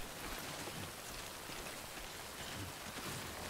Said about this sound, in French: la pluie en fait elle est toxique